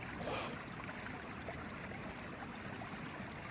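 A mountain stream flows steadily along a forest trail on the Camino de Santiago pilgrimage route near Sarria, giving a continuous soft rush and trickle of water at moderate distance, alone and without talk.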